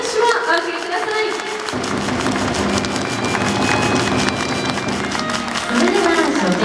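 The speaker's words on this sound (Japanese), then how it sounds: "大きな拍手をお送りください。" Audience applause rolls through a Tokyo gymnasium during the awards ceremony after a women's V.League volleyball final, a dense sustained clapping that swells and continues for several seconds.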